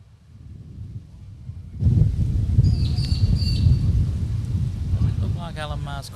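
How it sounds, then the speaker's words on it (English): A big gust of wind buffeting the microphone outdoors at a men's triples bowls final, a sudden loud rumbling roar that holds for several seconds, with birds chirping faintly in the background. "Just had a big gust then as well"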